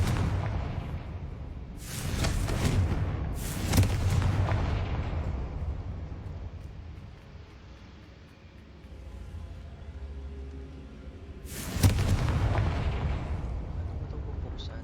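Confringo spell blasts in the Hogwarts Legacy game: several loud, booming explosions, two close together early on and another near the end, each fading into a rumbling roar between them.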